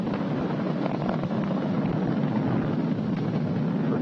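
SpaceX Falcon 9 rocket engines during ascent, throttled down ahead of maximum dynamic pressure, a steady broad roar with no breaks, loud and continuous.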